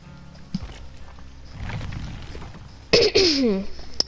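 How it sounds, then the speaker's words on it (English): A person coughs close to the microphone: a short harsh burst, then a louder raspy throat-clearing cough with a strained voiced edge, separated by brief quiet gaps. "I've been coughing so much"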